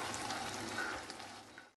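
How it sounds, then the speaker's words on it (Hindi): Egg halwa roasts in ghee over a full flame with a faint, steady crackling sizzle, ending in a brief gap and a sudden clunk. "और इसे फुल फ्लेम पे ही भूनते रहेंगे।"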